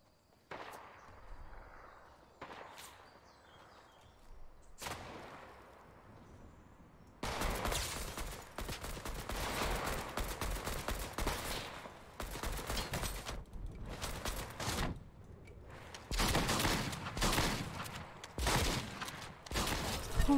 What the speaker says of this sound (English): how was I missing all those shots?